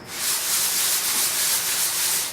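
Steady, continuous abrasive rasping of sandpaper rubbing across parchment, close and fairly loud, with a bright hissing texture and no talking.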